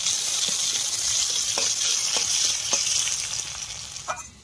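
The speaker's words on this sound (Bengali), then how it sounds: "এবার দেবো পেঁয়াজ কুচি।" Chopped onions frying in hot oil with crushed garlic and dried red chillies, a steady close sizzle broken by a few light stirring taps, fading slightly near the end.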